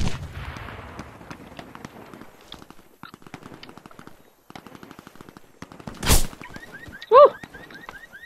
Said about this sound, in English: Bullet came right past my head.